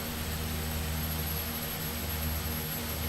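Propeller aircraft engines idle steadily in X-Plane 11 on the ground at Payson, Arizona, producing a constant, even drone with a steady high whine and no talking.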